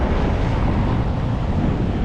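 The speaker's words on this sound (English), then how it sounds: "It's windy, as you can see." Strong wind roars against the microphone on a sunny Lisbon street, a steady, close, low-heavy rush with no speech over it.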